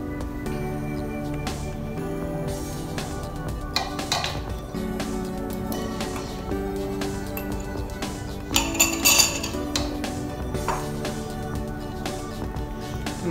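Flour being mixed into banana bread batter in a bowl, with a utensil repeatedly clinking and scraping against the bowl in an irregular rhythm, close and clear, without talking.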